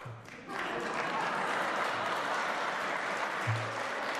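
Sustained, dense audience applause at a political speech, rising sharply after a brief quieter start and holding steady and loud throughout, with a faint voice near the beginning.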